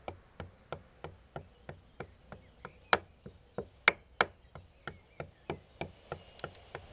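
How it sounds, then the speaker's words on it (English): White pepper and drained cumin seeds pounded in a mortar: a pestle strikes in a steady, even rhythm of about three knocks per second, close and crisp, with a few harder hits and no talking. "Then we grind in the mortar white pepper and the drained cumin seeds."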